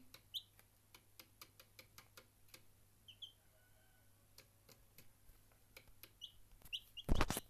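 Two young chicks cheeping, giving short, high, scattered peeps at irregular intervals over a quiet background, with a louder rustle near the end.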